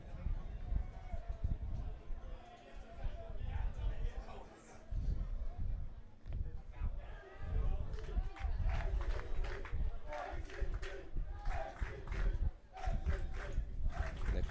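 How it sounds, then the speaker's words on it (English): Spectators at a high school baseball game, St Dominic vs Kellenberg, make a busy stretch of cheering and chatter, with shouts rising and falling in the stands and voices mixed throughout. "Crowd getting into it"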